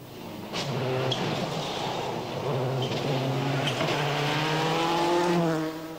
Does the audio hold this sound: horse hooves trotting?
no